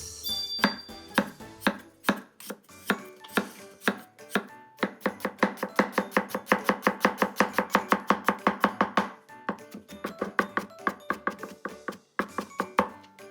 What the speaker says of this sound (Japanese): じゃあまずニンニクからみじん切りしていきます。